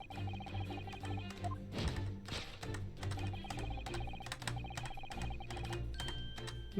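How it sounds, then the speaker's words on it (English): Computer keyboard keys are pressed rapidly and steadily while playing The Great Ace Attorney Chronicles. The clicks are close and continuous, and game music with melodic tones plays underneath them. "You're pressing the keyboard with the music"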